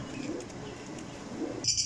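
Low, soft cooing from flying pigeons nearby, two brief coos about a second apart, ending with a sharp brighter sound.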